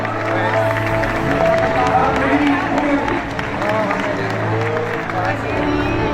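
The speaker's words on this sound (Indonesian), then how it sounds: "kita sambut bersama dalam tepukan tangan yang hangat untuk Gubernur Jawa Barat" Warm applause and crowd noise in a church welcoming West Java's governor, Dedi Mulyadi, running steadily under a loud announcer's voice throughout.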